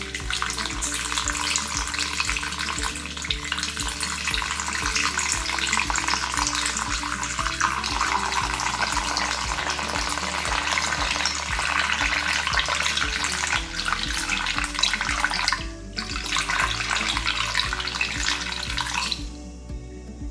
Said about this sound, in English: After I put my starter in, I like to add my water.